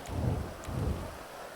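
Steady rain hisses under a low rolling rumble of thunder in the video game GTA 5, fairly faint and brief.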